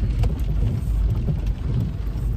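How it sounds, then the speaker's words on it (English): Rain falling on a chilly day, a steady broad wash of patter and low rumble, loud and close throughout, with no voices over it. "it's raining."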